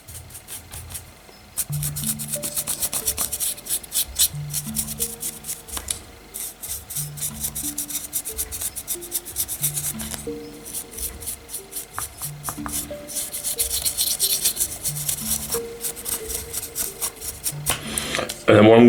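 A brush drybrushes the raised areas of a Tyranid miniature, giving quick repeated scratchy strokes in close, rhythmic bursts. Soft tapping accompanies them.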